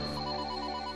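A telephone rings in a mansion, a steady electronic tone with a sustained bright pitch, loud and close, heard alone without any talking.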